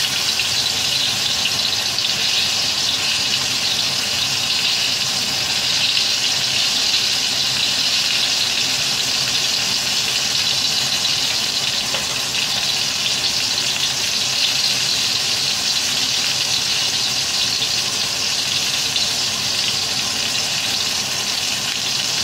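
Water runs from a tap while hairy gourd stuffed with minced pork cooks in a pan, a loud continuous hissing sizzle and rushing stream holding steady throughout with no speech.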